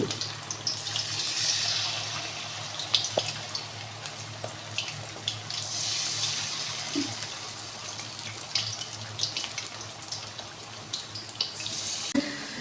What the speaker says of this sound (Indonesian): Kita goreng dia sampai garing ya.